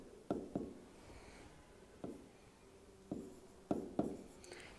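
Pen or marker writing an example sentence on a board, a handful of sharp tapping strokes spaced irregularly, close and fairly quiet, with no talking.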